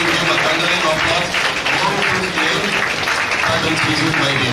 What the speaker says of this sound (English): Audience, please give him a thundering applause.